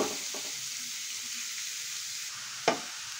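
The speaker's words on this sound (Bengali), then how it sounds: "এবার গাজরটাকে কিছুক্ষণ একটু ভেজে নেব এইভাবে।" Grated carrots fry in hot ghee in a wok, giving a steady, close hiss and sizzle with a couple of sharp utensil scrapes, and no talk.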